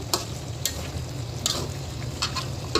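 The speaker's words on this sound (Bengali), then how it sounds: "একটু আবার নেড়ে চেড়ে বসিয়ে নিব" Halim being stirred in a cooking pot, with a soft steady sizzle and a few sharp scrapes and clinks of the spoon against the pot, fairly quiet and close with no voices.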